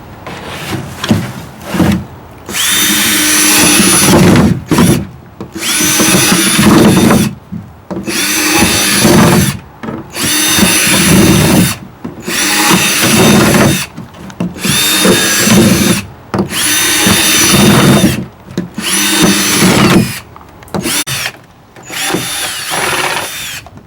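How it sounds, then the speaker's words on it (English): Power drill driving holes in a series of about ten loud bursts, each a few seconds long with short pauses between, recorded close with no talking. "So let's start drilling."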